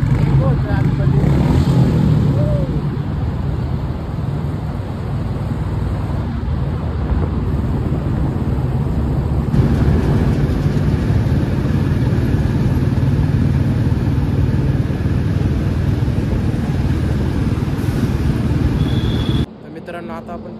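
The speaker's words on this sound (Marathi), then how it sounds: "आता बुलेटचा आवाज ऐकू शकता, कसला इको होतो आतमध्ये।" A Royal Enfield Bullet motorcycle engine rumbles steadily inside a tunnel on the road near Katraj, its low drone echoing and sustained throughout, with someone talking over it.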